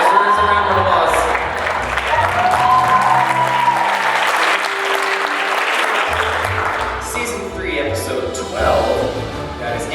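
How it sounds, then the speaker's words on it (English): Audience applause at a school talent show, a steady, dense clapping from a full room lasting throughout, swelling slightly near the end. "That just deserves a round of applause."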